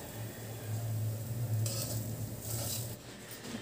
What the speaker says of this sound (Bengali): এই কাঁচা সর্ষের তেলটা দিয়ে ভালো করে সব মিশিয়ে